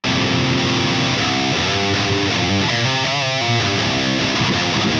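Electric guitar through an amp pushed by an MLC boost pedal, a loud, thick distorted riff ringing continuously without pauses or voices.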